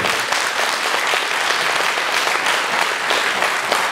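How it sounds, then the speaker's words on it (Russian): Audience applause at a public gathering of a volunteer movement backing a State Duma candidate: dense, sustained clapping from a large crowd, steady and loud throughout. "Ваши аплодисменты."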